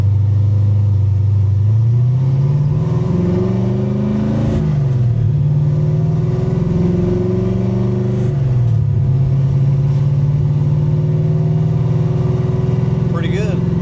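A cammed car with 4.10 gears lopes along in normal driving, the engine rumbling with a choppy idle-like pulse, revving up through shifts and settling, close and loud under a voice.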